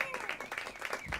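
A concert audience applauds a singer at the Duncan Showroom, a brief burst of steady clapping with a voice speaking over it.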